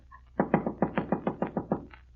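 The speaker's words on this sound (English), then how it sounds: "Wise guy knocking on his own door." Knuckles rap on a wooden door in a radio drama sound effect, about nine firm, close knocks in a quick even rhythm, heard alone.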